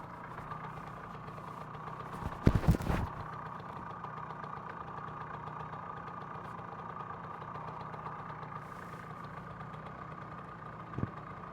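A late 1970s Puch two-stroke moped engine idles steadily nearby with a continuous buzzing putter, interrupted by a couple of brief loud clunks and knocks.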